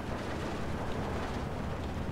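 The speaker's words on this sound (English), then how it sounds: "just general artillery bombardment is constant here" Constant artillery bombardment over a town battlefield in the Steel Division 2 war game, a dense unbroken rumble of distant blasts with no distinct single impacts, no voices.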